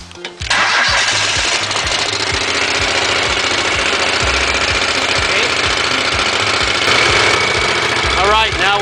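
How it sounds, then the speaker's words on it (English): Portable air compressor engine started with choke at about half throttle, cranking briefly and then catching into a loud, steady mid-pitched running drone close by, with rhythmic knocking pulses underneath. "now to start up the air compressor"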